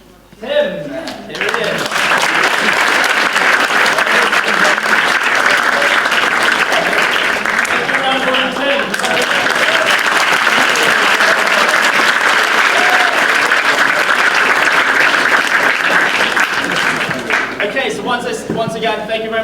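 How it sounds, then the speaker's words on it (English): Loud, sustained applause from a large crowd at an entrepreneurs conference in Nottingham, continuous clapping with cheering and voices mixed in, running nearly twenty seconds. "let's give a round of applause"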